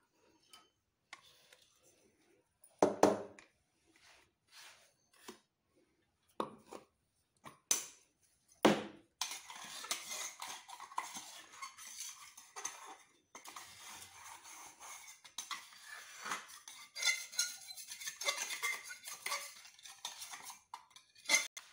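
Ground cardamom being stirred into semolina for ladoo, heard as sparse spoon or utensil ticks and clinks, followed by steadier faint scraping and stirring without talk.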